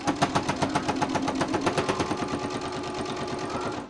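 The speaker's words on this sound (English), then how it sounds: "now all we have to do is sew that" A sewing machine stitches the fabric of a microwave bowl cozy, running in a fast, steady rhythm of close, clear needle strokes that lasts the whole time and slows a little toward the end.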